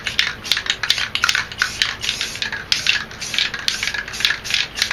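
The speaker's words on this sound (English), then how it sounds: "And then we're going to spray black over this" An aerosol spray paint can sprays black paint in quick short bursts, a near hissing spray pulsing steadily with no voices.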